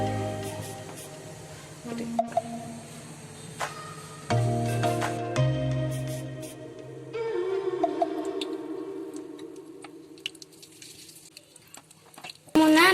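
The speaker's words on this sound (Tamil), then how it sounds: "ரீஃபைன் ஆயிலில் குலாப் ஜாமுனை பொறிச்சு எடுத்துடலாம்" Gulab jamun balls fry in refined oil with a steady bubbling sizzle and light patter, accompanied by occasional spoon ticks and clinks against the pan.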